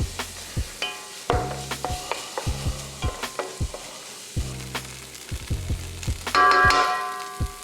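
Hash browns sizzle on a griddle under a steady frying hiss, while a metal spatula scrapes and clanks against the hot surface in quick, irregular strokes, close and fairly loud, with no talking.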